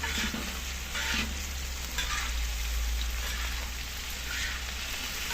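Carp frying in a pan on a stovetop, a steady close sizzle and crackle of hot oil that holds without a break and with no talking.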